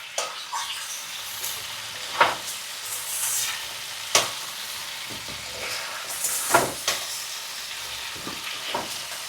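Chicken pieces frying in hot oil for a home-style curry give a steady, close sizzle and hiss, broken by a few sharp stirring scrapes and clinks, with no talking.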